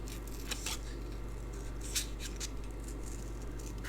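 Scissors fussy-cut a paper card shape, giving faint, close, irregular snips and rustles over a low steady background hum.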